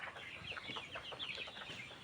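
Weak 48-day-old layer chickens, drowsy after a coryza vaccine injection, give soft, faint clucks and murmurs in quick, irregular bursts against a quiet background.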